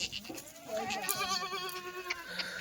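Kathiawari goats in a truck give a couple of wavering, nasal bleats close by, the calls overlapping briefly against a faint background of livestock noise.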